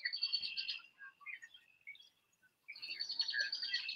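High, bright bird chirps come in quick trilling bursts, pause briefly with scattered calls, then resume; fairly faint, no voices.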